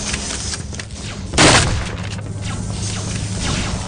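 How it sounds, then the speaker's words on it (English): A single shotgun blast from the video game Vivisector booms out loud and close, one sharp burst rising over a steady, busy background of game noise. "I'll keep using the shotgun, I guess."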